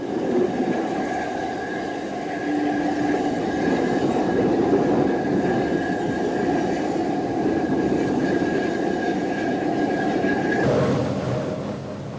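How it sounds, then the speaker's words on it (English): A special train hauled by Metropolitan Railway 044 tank locomotive No. 1 from Quainton Road rolls past near Upminster Station, a loud, steady rumble of wheels and carriages with a sustained tonal whine, easing off near the end, and no voices. "As the special train joins the main line at Upminster Station"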